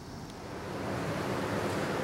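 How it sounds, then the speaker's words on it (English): Outdoors on a sunny, mild day, a light wind rushes steadily across the microphone, a soft broadband whoosh that swells slightly over two seconds with no voices. "Wind's blowing a little bit, sun shining"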